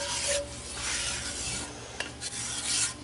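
A roux for shrimp gumbo stirred in a pot over low heat, a close, continuous rasping scrape of the utensil across the pot bottom in sweeping strokes, with a faint sizzle underneath and no talking.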